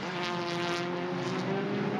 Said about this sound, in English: hard on the brakes, turn 1